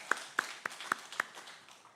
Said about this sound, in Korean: 함께 우리 박수로 새 가정을 축하해 주시기 바랍니다